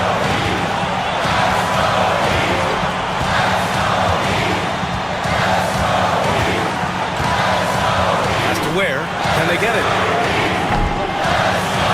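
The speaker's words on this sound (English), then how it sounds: "And the crowd now is in a frenzy." Basketball arena crowd in a video game cheering loudly and continuously beneath a play-by-play commentator, with sneaker squeaks and ball bounces mixed in.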